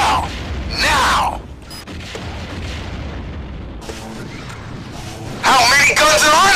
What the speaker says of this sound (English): Fox One. Launching missile.